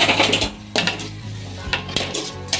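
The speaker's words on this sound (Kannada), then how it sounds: "ಇದನ್ನು ಗಟ್ಟಿಗೆ ಫ್ರೈ ಆಗೋ ಥರ ಹುರ್ಕೋಬೇಕು" Egg bhurji being stirred and fried in a pan, with repeated scraping clinks of a spatula against the metal over a faint background sizzle, close and fairly quiet.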